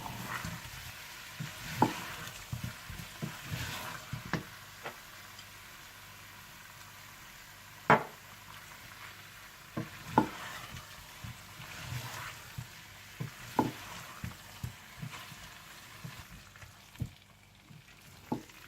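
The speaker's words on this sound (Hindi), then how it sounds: "अब इसमें मैं हरा धनिया डालकर मिला लूंगी" A spoon stirs aloo gobi with freshly added green coriander in a pan, giving soft scraping and a faint sizzle punctuated by occasional sharp clinks against the pan, with no speech.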